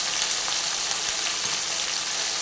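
Potatoes and okra fry together in a pan for spicy sesame okra, giving a dense, steady, close sizzle of hot oil with faint occasional stirring ticks and no pauses.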